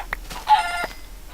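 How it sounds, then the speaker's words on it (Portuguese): Chicken clucks in a blocky Minecraft-style survival game, a few short, sharp clucks in quick succession, close and clear with no talk over them. "Tem muita galinha aqui."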